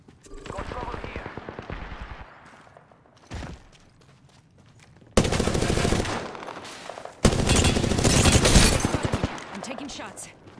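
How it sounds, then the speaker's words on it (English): Automatic gunfire in the shooter game Apex Legends, bursts of rapid shots close by that grow louder and denser in the second half, with voice lines between them. "Getting shot at."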